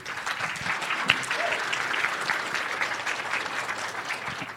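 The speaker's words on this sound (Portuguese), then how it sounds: "Uma salva de palmas para ele." Applause from a conference audience welcoming a speaker to the stage at a Python Brasil talk. Many hands clap in a steady, even wash with a few sharper claps standing out, and the clapping fills the whole stretch.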